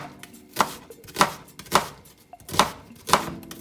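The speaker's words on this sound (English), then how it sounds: "So just give this a rough chop" Knife roughly chopping vegetables on a board for an Indian sweet potato and lentil soup, six loud, evenly spaced chops about half a second apart, close by, with no talking.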